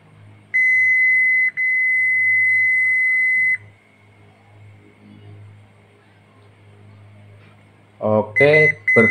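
A digital multimeter's continuity tester beeps across ignition switch pins on a Honda Vario 125: a steady high electronic tone sounds for about a second, breaks briefly, then holds for two more seconds. A quiet pause follows, then a person speaks.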